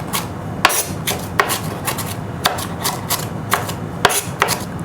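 A knife chops shallots on a cutting board for butter chicken sauce, giving quick repeated close taps in an uneven rhythm over a faint background.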